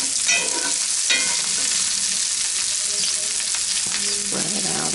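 Food frying loudly in a pan as it browns, a dense continuous sizzle broken by a few scraping stirs of a utensil, close and with no talking.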